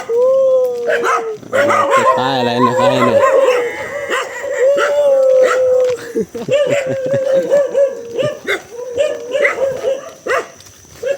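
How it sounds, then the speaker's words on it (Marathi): A dog near a crab-fishing spot lets out drawn-out howls and repeated barks and yips, loud and close, while people talk nearby. "कुत्रा बघा मित्रांनो नुसतं भुकतान"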